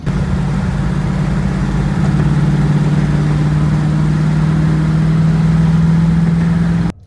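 A 1982 Chevy Malibu Classic station wagon engine hums steadily while cruising, a loud, continuous low drone with a slowly rising pitch, running alone until it cuts off abruptly at the end.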